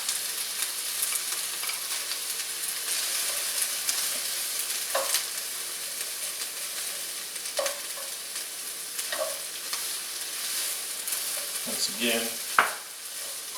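Chopped green onions sizzle and hiss in a hot wok as they are stirred, a steady frying crackle with a few sharp scrapes and clanks of the spatula near the end, and a brief voice.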